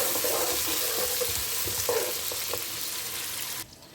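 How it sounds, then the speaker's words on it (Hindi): Chopped medium onions frying in a cup of cooking oil for chicken nihari, a steady broadband sizzle with occasional stirring clatter, close and continuous until it drops away near the end. "तो सबसे पहले हम प्याज ब्राउन करते हैं।"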